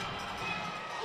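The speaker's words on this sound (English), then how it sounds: "Look at the crowd, young kids just having a blast here." A crowd of young kids at a hockey game cheers and shouts in a continuous, distant roar that holds steady.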